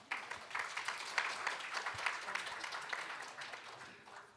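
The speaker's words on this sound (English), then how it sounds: "please welcome them with a big round of applause" A conference audience claps in sustained, moderately distant applause that swells early and slowly tapers off.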